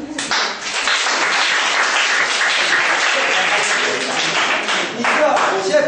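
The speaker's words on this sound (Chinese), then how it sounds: "还不给自己鼓掌？" Junior high school students at an assembly talk in Guangfu, Hualien clap for themselves in a dense, even burst of applause that carries on for several seconds without a break.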